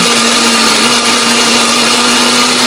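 A kitchen blender grinds a spice paste for Balinese-style sate lilit and long-bean urap, running as a loud, steady, close whine with a constant motor drone throughout.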